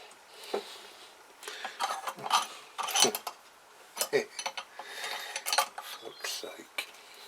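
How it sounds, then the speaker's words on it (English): Metal bolts clink and rattle as they are dropped into a Kawasaki GPZ500S engine casing during assembly, a series of quiet, irregular close-up metallic taps and clatters. "Start dropping a few bolts in."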